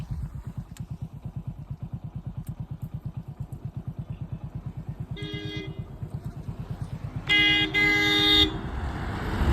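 A motor vehicle passes on a village road: a steady, rhythmic engine thrum builds, then two horn toots sound nearby, the second longer and louder.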